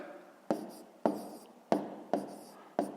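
Pen or chalk writing numbers by hand for a column multiplication, five sharp tapping strokes each followed by a short scratching trail at roughly half-second intervals, close and distinct, with no talking.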